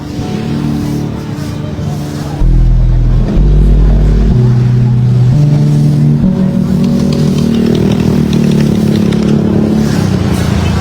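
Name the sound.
motorcycles and traffic passing on a wet Manila street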